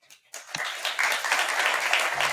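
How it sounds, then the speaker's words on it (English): Applause from an in-person audience at a panel session on building political paths to a universal basic income, a broad steady patter of clapping that swells after a brief quiet start and holds at moderate loudness. "I hope you can hear the applause in the room"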